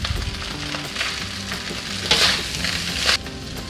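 Rice stir-fried in an oiled pan, pressed to break up clumps, giving a loud continuous sizzle with scraping stirs and two sharper hissing surges near the end; nobody talks.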